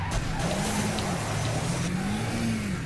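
A car in a racing video game accelerates hard, its engine revving steadily in a continuous rising and falling drone throughout, with no talk.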